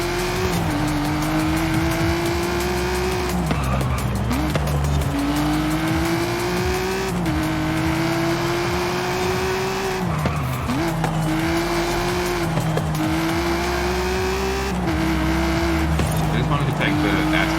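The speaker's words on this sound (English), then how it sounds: "Take the Aston Martin out for a little bit to kind of enjoy the engine noise" Aston Martin race car in a racing video game, its engine climbing through repeated gear changes with a rising whine, punctuated by tire squeal and skidding, loud and close throughout.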